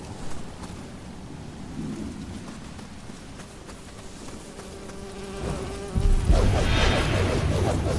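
Wasps buzz in Nioh 3, a steady droning whine under game ambience that swells near the end as a louder burst of combat noise and rumble kicks in.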